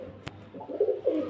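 Pigeons coo in a couple of close, soft, throaty phrases, with a brief sharp sound near the start and no voices.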